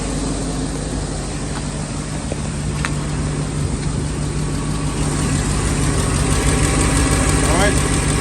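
A Ford Super Duty F-350/F-250 diesel pickup idles after an oil cooler replacement and has a slight exhaust leak. Its engine gives a steady, loud, close rumble that holds unchanged throughout.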